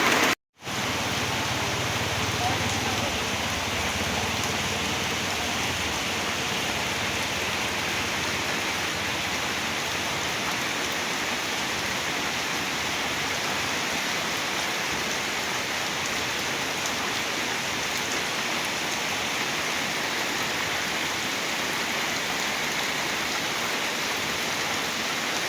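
Heavy rain pours steadily onto a flooded campsite in bad weather, a dense, constant hiss lasting throughout after a brief moment of quiet at the very start.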